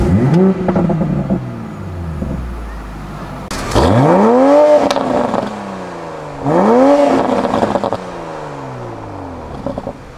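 A 2020 Toyota GR Supra accelerates hard on a public road, its engine note climbing in repeated sweeping revs with brief gear-change dips, loud and close, two strong pulls separated by a steadier cruising drone.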